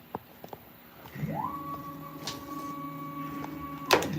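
An aluminum wallet cover being machined on a CNC mill for the final cut, a steady high tonal whine with harmonics rising as the cutter engages, a few light clicks beforehand and a sharp bump near the end.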